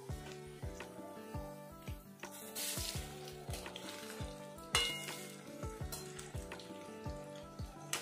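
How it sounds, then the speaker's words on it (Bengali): Crisp pakoras being turned in hot oil in a kadai, loud steady sizzling and bubbling close up, broken by repeated clinks and scrapes of the spoon against the pan. "এবার আমি পকোড়াগুলো একটু উল্টে পাল্টে দেব।"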